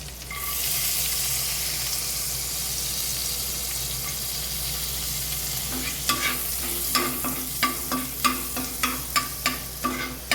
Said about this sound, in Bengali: বাটারটা মোটামুটি মেল্ট হয়ে গেছে। এবার দিয়ে দিচ্ছি একটু রসুন কুচি।